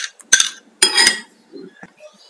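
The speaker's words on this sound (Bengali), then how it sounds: "তো এগুলো মিক্স করার জন্য প্রথমে একটা মিক্সিং বলে তালের পাম্পটা নিয়ে নেব।" Thick palmyra palm pulp goes into a mixing bowl in a Bangladeshi kitchen, with a few close clinks and knocks of a utensil against the bowl and some soft wet scraping between them.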